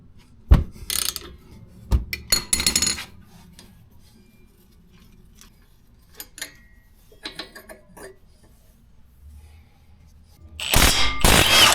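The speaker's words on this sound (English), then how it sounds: "You do need a ratchet that has a go-through" A pass-through ratchet turns a 17 mm bolt on a Toyota GR86 suspension, giving loud bursts of rapid metallic clicking near the start and end, with scattered lighter taps and clinks between.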